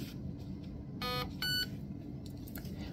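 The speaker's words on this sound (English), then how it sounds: "We will wait for 3 beeps to know that we're in trigger sensitivity." A Raven Evolution Furion ETU airsoft gun in programming mode gives two short, clear electronic beeps about half a second apart over a quiet, low background hum.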